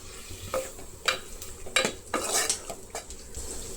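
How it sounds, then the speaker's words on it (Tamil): Tomatoes being stirred and sautéed in masala for mutton kofta kuzhambu, with a spoon scraping and clinking against the pan in repeated strokes over a steady sizzle, close and moderately loud, no talking. "தக்காளி சேர்த்த பிறகு நல்லா மசிஞ்சு வர அளவுக்கு வதக்கிக்கணும்."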